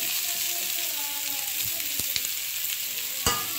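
Carrot, beans and tomato sauté in a hot pan for ragi semiya upma, giving a steady close sizzle and frying hiss with a few sharp clinks of stirring.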